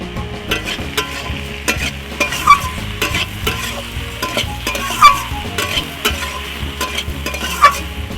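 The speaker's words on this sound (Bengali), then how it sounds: "ডুমুর ফল আর আলু মশলার সাথে ভালো করে কষিয়ে নিয়েছি" Figs and potatoes with spices frying in a pan, stirred steadily; a constant sizzle runs under repeated scraping strokes, close and clear with no talking.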